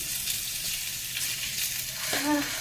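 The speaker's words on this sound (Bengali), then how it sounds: "বেগুন ভাজাটা করছি বেগুন ভাজাটা দিয়ে ভাত দেবো খেতে" Brinjal slices fry in a pan with a close, steady, hissing sizzle, and a brief tonal sound cuts in near the end.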